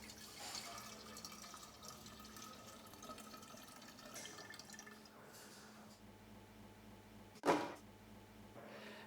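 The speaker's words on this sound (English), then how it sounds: "you simply pour 1 litre." Stock trickles and pours steadily into a Thermomix bowl, about 1 litre, with a low background hum and a brief louder splash or clunk near the end.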